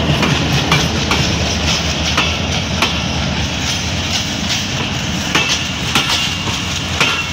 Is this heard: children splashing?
no